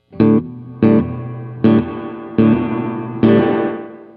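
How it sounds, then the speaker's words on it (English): Five distorted electric guitar chords through an amp's spin chip reverb ring out one after another, each trailing off into a wet, lingering reverb tail. "this reverb is like a spin chip reverb that Robert Keeley designed for us."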